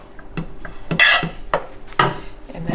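A spoon scrapes and clinks against a pot while sauce is stirred into canned spaghetti sauce for venison spaghetti, several separate knocks and scrapes spaced out at close range with no talking.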